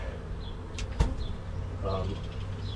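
Bees buzz faintly around a kids' play house during a removal, intermittent insect drone with a sharp knock and soft outdoor background noise.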